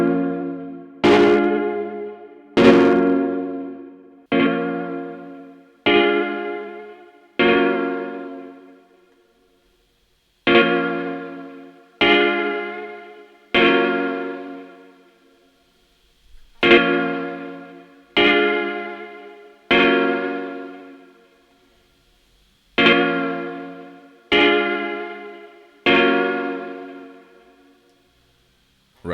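A sample sound routed through a Cooper Effects Arcades pedal and a Trident EQ: a series of bright, harmonic processed notes in short groups, each sharply struck then decaying, separated by brief gaps, with no voices.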